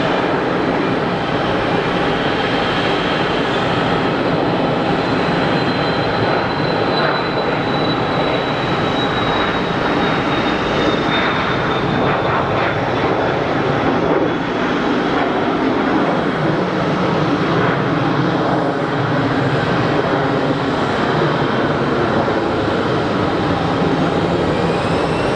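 A Cessna Citation business jet at Geneva Airport, heard as a loud, steady engine roar that fills the whole stretch with a faint whine drifting slowly downward, and no voices.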